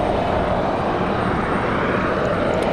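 A Southwest airliner on a windy day at Raleigh-Durham International Airport, a steady, broad engine roar that stays loud and constant throughout, with no voices over it.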